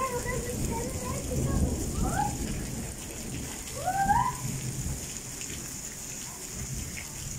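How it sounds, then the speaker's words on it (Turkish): Heavy rain pours down in a dense, continuous hiss, with faint voices briefly audible beneath the downpour. "Bacılarım, kardeşlerim de baksın yağan yağmura."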